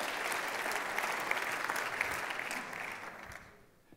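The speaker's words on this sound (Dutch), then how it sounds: "geeft u hem ook een hartelijk applaus" Lecture audience at Tilburg University applauding a speaker on pensions, steady moderately loud clapping that holds for a few seconds and then fades away toward the end.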